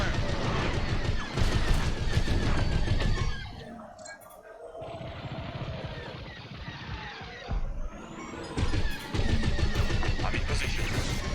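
Rapid starfighter weapons fire in the Star Wars Squadrons space combat game, with dense bursts of blasts and crashes that thin out briefly midway before loud volleys return.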